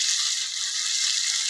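Fish tawa fry sizzling on a hot tawa griddle, a loud, steady, hissing crackle of oil that runs unbroken, with no voices.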